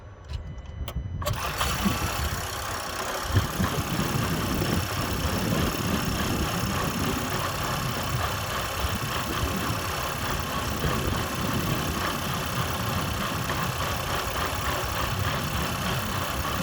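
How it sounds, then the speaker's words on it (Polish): Combustion engine of a Renault Espace E-Tech Full Hybrid 200 kicking in and running roughly, a steady loud low rumble that continues throughout after a brief quiet start. "raz na jakiś czas silnik odpala się i wchodzi w taki oto brzydki rytm"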